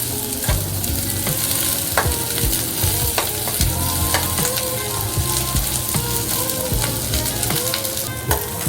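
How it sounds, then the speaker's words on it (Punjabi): Onions for a paneer malai kofta gravy sauté in a pan with a loud, continuous sizzle, punctuated by frequent close knocks and scrapes of a spatula. "ਹੁਣ ਅਸੀਂ ਇਹਨੂੰ ਭੁੰਨਾਂਗੇ ਜੀ ਚੰਗੀ ਤਰ੍ਹਾਂ"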